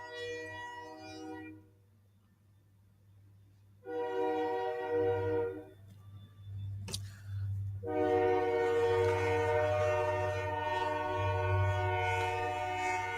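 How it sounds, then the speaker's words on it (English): A train passes close by, sounding a loud, long multi-tone horn in repeated blasts over a constant low rumble of the rolling cars. "Take a drink while this train goes by."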